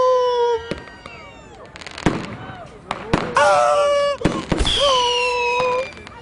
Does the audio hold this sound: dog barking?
no